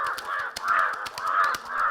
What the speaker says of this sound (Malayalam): 2 കാക്കകൾ വഴക്കുണ്ടാക്കുന്നത് കാബിൽ ശ്രദ്ധിച്ചു